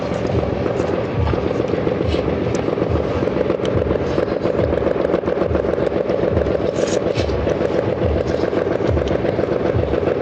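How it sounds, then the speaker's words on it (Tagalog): Dense, continuous crackle of many firecrackers exploding nonstop, with loud overlapping pops and bangs filling the air throughout at a steady, high intensity. "Daming paputok."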